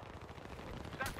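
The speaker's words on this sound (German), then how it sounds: "Sniper, guck mal, der Sniper knallt mich aber ab." Rapid gunfire from a Battlefield 3 multiplayer match rattles continuously, a dense burst of shots with a sharper crack near the end, heard over game noise.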